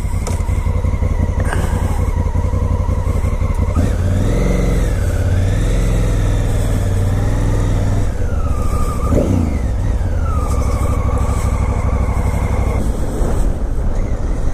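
A 2017 Honda Africa Twin motorcycle pulls away with a steady, loud engine drone throughout; revs rise and fall in a couple of swells as it accelerates, with no talk over it.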